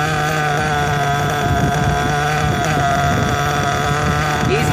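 A nitro RC engine idles through its break-in, a loud close buzzing drone with a steady tone that holds unbroken and carries faint, brief wavers as it keeps running.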